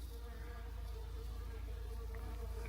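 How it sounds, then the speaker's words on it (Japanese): Honeybees buzzing around blooming azaleas on a small island, a steady, dense insect drone that holds on without a break. "ミツバチの音がすごい。"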